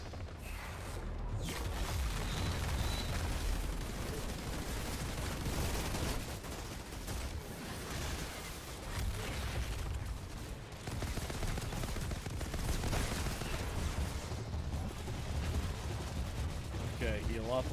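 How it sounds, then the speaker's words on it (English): Submachine gun firing in a video game: dense, continuous bursts of rapid automatic fire fill the whole stretch, loud and close, overlapping with explosions and other battle noise. "Let's get the submachine gun."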